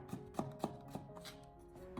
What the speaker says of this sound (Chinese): 最后我们再将其给它改刀切成胡萝卜丝。